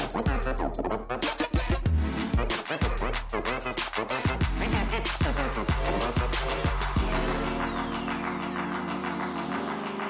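A Can-Am Ryker three-wheeled motorcycle on a test ride, with a loud close engine revving and rising through gears, then a long tone sweeping downward as it pulls away.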